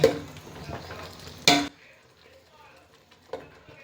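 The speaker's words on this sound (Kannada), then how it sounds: "ಒಂದು ಐದು ಐದೇ ನಿಮಿಷ ಫ್ರೈ ಮಾಡಕ್ಕೆ ಬಿಟ್ರೆ ಕ್ಲೀನಾಗಿ ಫ್ರೈ ಆಗುತ್ತೆ" Ground tomato masala for rice bath fries in a pan, with a burst of busy sizzling and spoon scraping that drops to a quiet simmer, then one more light clink.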